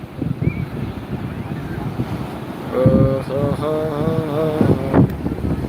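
Steady wind and rolling surf roar close to the microphone on a beach at Cox's Bazar at night, with voices talking faintly over the noise in the second half.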